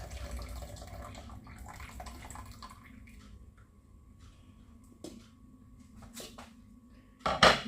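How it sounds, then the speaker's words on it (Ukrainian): Potato cooking water pours and splashes into a separate pot, with clinks of cookware and a final louder burst of splashing; no talking. "Нам потрібно злити юшку. От, відвар картопляний в окрему посудину."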